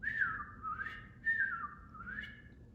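A person whistles an imitation of a robin, sounding clear, sliding, swooping phrases in a repeating pattern of about four calls. The whistling is close and alone, with no talking.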